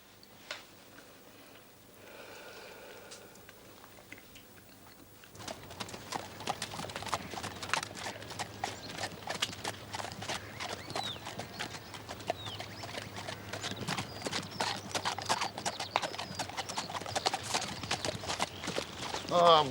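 Hooves of a single horse, which has gone lame, clip-clop steadily on a street in Victorian-era London, starting after a quiet opening and continuing in a dense, close rhythm over a low background hum.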